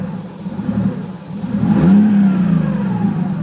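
A Datsun Z fitted with an RB30 engine idles at a red light, then a short throttle tap swells the revs around the middle of the clip before it settles back toward a steady idle. The engine sounds close and rough, with no talking.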